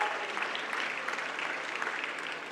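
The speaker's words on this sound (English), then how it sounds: "Come on, guys, a round of applause." Audience applause at a conference award ceremony for a school team, steady dense clapping from a crowd filling the whole stretch without pause, with no speech over it.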